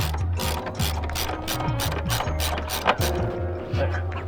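A hand ratchet loosens a bolt on a VW MK7 GTI, clicking in quick, even strokes with brief pauses between pulls, close up and clear.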